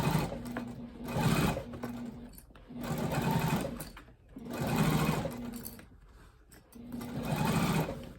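A sewing machine stitches a seam on a crossbody bag in three long steady runs, each a few seconds of continuous whirring with short pauses between them, close and clear.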